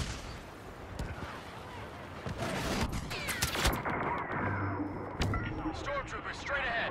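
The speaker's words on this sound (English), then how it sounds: "Fucking orbital strikes" Orbital strike bombardment in the Star Wars Battlefront shooter, a run of sharp blasts and crackling impacts with high sci-fi laser zips, a voice talking over the barrage.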